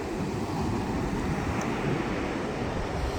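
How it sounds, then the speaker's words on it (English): Waves wash over a crest and settle into a small shallow pool, giving a steady, close rushing wash blended with wind buffeting the microphone, with no voices. "it's just where the waves come over the crest here and just settle in this little area."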